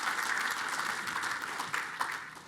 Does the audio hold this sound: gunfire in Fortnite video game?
no